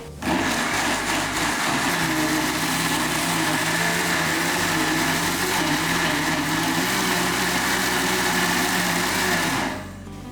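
A mixer grinder blending vada batter, whirring loud and steady at close range for about ten seconds before the motor cuts off and winds down at the end.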